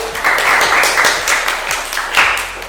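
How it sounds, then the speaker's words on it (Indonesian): Students in a classroom clap for a classmate, a short burst of brisk applause from a small group with a voice speaking over it. "Sebelumnya beri tepuk tangan lagi dong untuk Bahrul"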